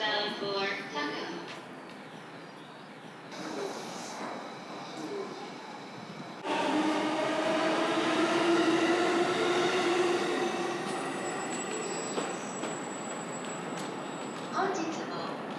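A JR East local train sits at a station platform, a broad rumbling roar of cars and wheels building sharply partway through, with thin squealing tones above, while a voice speaks over the early part.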